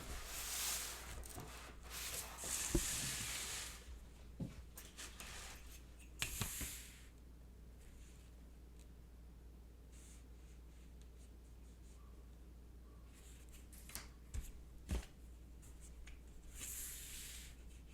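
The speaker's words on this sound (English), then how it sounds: "So now I'm going to cut along that line." A sharp X-Acto knife cuts paper along a drawn line for a concertina book, giving faint scratchy rasps in short bursts separated by quiet pauses, close up, with no voices.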